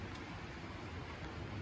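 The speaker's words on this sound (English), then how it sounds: "Rain on a tin roof." Rain drums on a metal tin roof of a house in a steady, dense, even patter with no breaks, fairly faint and continuous, with no voices over it.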